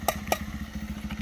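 A motorcycle engine runs with a steady, rapid low-pitched putter on a village road, fairly close and moderately loud, with a couple of sharp clicks over it.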